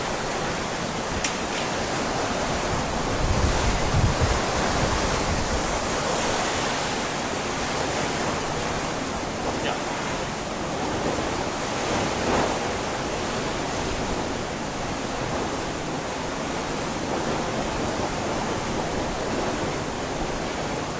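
Raging floodwater rapids churn during Hurricane Ian in a steady, loud, broadband roar of rushing water that holds for about twenty seconds with no talking.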